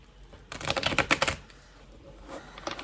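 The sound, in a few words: shuffling tarot cards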